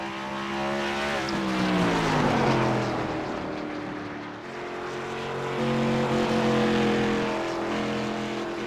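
A race car laps the track at Lucas Oil Raceway during a SecondHand Racing League qualifier, its engine whining up and down through gears as it passes, loud and fairly close with no talk.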